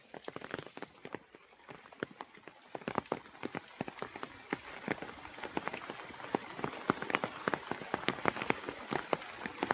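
Heavy rain falls in a forest garden, a dense patter of close, irregular drops hitting leaves and surfaces, steady and building slightly over ten seconds with no voices.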